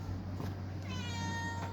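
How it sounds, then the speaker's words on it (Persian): A pet house cat gives a single drawn-out meow, close and clear, over a steady low hum. "این هم گربه‌مونه"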